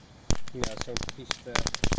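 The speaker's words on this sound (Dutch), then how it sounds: "Dit zijn de ratelint uit het vuurwerk mixpakket." A firecracker rattle strip from a fireworks mix pack goes off in rapid, irregular sharp bangs and crackles close by, with voices talking underneath.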